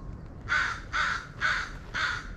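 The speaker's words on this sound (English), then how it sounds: "Oh, there's a crow." A crow perched up in a tree caws four times in a steady rhythm, loud and clear over a quiet outdoor trail.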